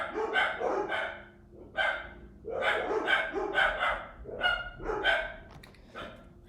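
Several dogs barking indoors, close and loud, in a rapid, repeated volley of overlapping barks and yips that fills the whole stretch.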